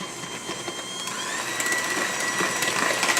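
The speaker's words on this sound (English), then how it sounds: "we're going to mix this. This is the butter, the sugar, the eggs, and the bananas." An electric mixer whirs steadily as it creams butter, sugar, eggs and bananas for banana bread, a continuous motor hum building slightly toward the end.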